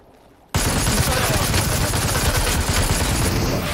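Sustained automatic AK rifle fire in a video game, bursting in loud and close after a short quiet start and continuing as a dense, rapid, unbroken stream of shots.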